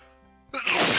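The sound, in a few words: sneeze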